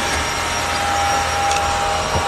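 A vacuum cleaner runs steadily in the background, making a continuous even drone with a thin whine and no pauses.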